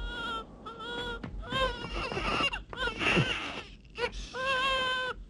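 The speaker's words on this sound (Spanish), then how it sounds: "Cualquiera puede oír su llanto." An infant cries in repeated wailing bursts, rising and falling in pitch with short breaths between them, fairly close. Faint other sounds sit underneath, but the crying dominates.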